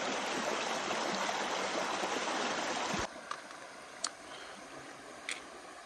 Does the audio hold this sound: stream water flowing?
yes